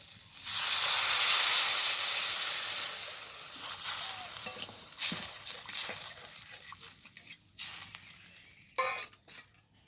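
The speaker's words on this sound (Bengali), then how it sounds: "এবার দিয়ে দেবো পরিমাণ মতো জল" Water poured into a pan of sizzling sautéed spices for patol paneer, a loud burst of steamy hissing and sizzle that gradually settles into softer bubbling and crackling with a few sharp spits.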